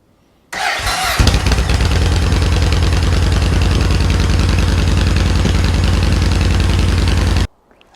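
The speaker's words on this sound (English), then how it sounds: "this is what it sounded like with the original pipes on" Yamaha XV 1700 Roadstar Silverado S motorcycle V-twin with original exhaust pipes and drilled-out baffles, starting with a brief crank then settling into a loud, close, steady deep throbbing idle before cutting off.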